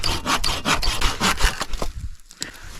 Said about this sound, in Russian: Ну что, распилю здесь, я посмотрю.